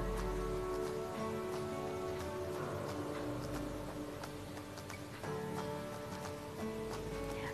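Grated carrots for carrot halwa frying in a pan on low heat, a dense continuous sizzle with scattered crackles and faint scrapes of stirring, close and steady throughout; no voices.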